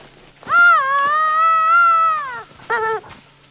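A hunting dog in the video game theHunter: Call of the Wild, during a night lion hunt, gives a loud, drawn-out whining yelp followed by a shorter second whimper.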